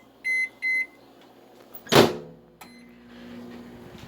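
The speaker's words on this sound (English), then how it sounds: "You know, Toby, normally eggs explode in the microwave, but this is not gonna end very well." A microwave oven heating eggs gives two short beeps, then a single thud as its door shuts, followed by a low, steady running hum close by, with no talking.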